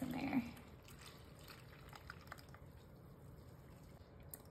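Whole milk poured into a bowl of instant pistachio pudding mix, a soft, faint liquid trickle and patter with a brief louder thump at the start, no talking.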